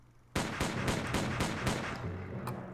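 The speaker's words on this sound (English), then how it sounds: "the sound of gunfire and smoke rushed towards the boy, as though a bunch of firecrackers had been set off" Volley of gunfire from a line of soldiers at a shooting range in the video game Ciconia When They Cry, several rapid sharp reports cracking in quick succession, then a decaying tail and one lighter shot.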